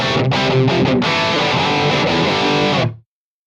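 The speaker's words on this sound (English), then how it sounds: "This is our normal distortion." Heavily distorted electric guitar chords through a Sinvertek Distortion No.5 pedal on its normal distortion setting ring out loud and sustained, then cut off abruptly near the end.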